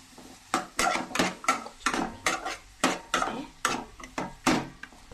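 A spoon scraping and clattering through a capsicum mixture in a metal pan, about a dozen rhythmic strokes roughly every half second, close and clear with no talking.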